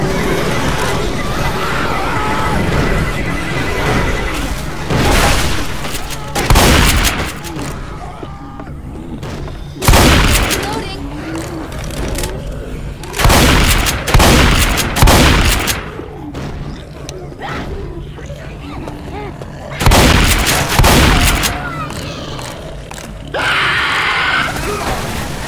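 Left 4 Dead 2 combat: loud grenade explosions break out at intervals amid steady gunfire, with shouts and in-game voices over the continuous noise.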